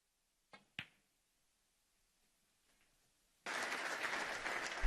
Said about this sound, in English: You can hear the applause for Mark Allen